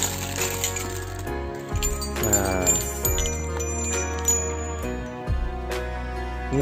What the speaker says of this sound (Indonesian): kalau ini lonceng angin